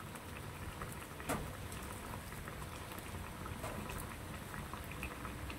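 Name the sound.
pork lungs in coconut milk boiling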